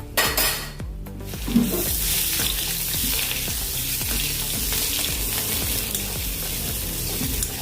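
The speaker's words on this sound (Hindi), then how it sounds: "इसमें अभी हम अपना आलू डालेंगे और इसको भूनेंगे आलू को।" Mountain potatoes fry over low heat in mustard oil in an iron kadhai, a dense continuous sizzle with a clatter as they drop in and repeated metal scrapes while being stirred, close and loud.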